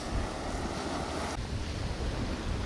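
Sea waves at Ladghar beach wash in a steady, broad surf roar mixed with wind buffeting the microphone, continuous and fairly close.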